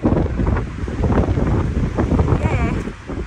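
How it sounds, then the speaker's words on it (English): Strong wind buffets the microphone with loud, gusty rumbling throughout, high on a mountain trail at Sky Pond in the Rocky Mountains. "It's really windy up here all the time."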